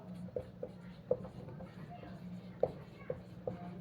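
Writing during a chemistry lecture, likely chalk or marker on a board: faint, scattered taps and short scratching strokes at an irregular pace, quiet and close, with low room hum behind.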